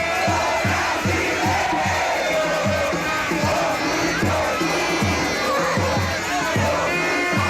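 A large crowd of Brazilian football fans at a public big-screen viewing roars and chants in loud, continuous waves, with rhythmic rising shouts repeating throughout.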